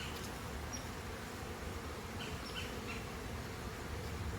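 Honey bees swarm around an opened, heavy hive heavy with honey frames, a steady dense drone of many insects close by, continuous and unbroken with no talking.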